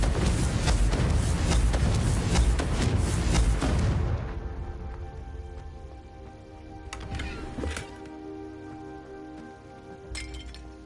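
Fire-blasting spell explosions in the Hogwarts Legacy video game, starting with a dense roar of booms and shattering debris that cuts off sharply, then a quieter stretch broken by a few distinct later blasts and clinks.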